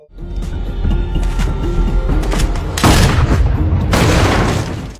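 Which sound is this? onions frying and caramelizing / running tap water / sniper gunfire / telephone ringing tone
sniper gunfire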